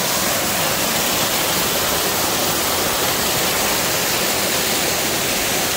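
A mountain waterfall on a Carnedd Llywelyn hike pours steadily, a loud, continuous broadband rush of falling water that stays even from start to finish with no voices.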